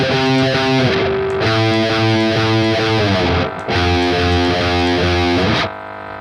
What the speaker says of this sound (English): Now let me turn on the amp and see how it sounds with the distortion and with the tone